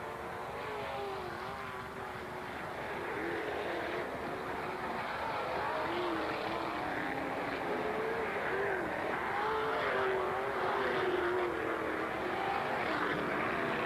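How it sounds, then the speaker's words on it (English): Sprint cars race on the Port Royal dirt track on a freezing day, their engines a continuous loud roar and drone with shifting pitch as cars circle, steady throughout without pause. "Freezing temperatures make for sprint car insanity on March 25th at Port Royal."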